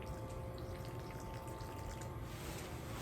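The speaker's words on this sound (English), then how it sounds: "in this with the baking soda, I'm gonna put a little bit of warm water" Warm water pours steadily into a container of baking soda while a pumpkin volcano is being prepared, giving a continuous close trickling and splashing wash with no talking.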